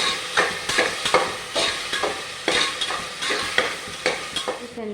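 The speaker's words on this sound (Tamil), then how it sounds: "கல்லுப்பு போட்டனால தக்காளியோடு நல்லா வதங்கணும் அப்படி கிண்டணும்" Tomatoes sautéing with rock salt in a pan while a spoon stirs them in regular scraping strokes, each sweep lifting a burst of sizzle over a steady fry, close and fairly loud with no talking.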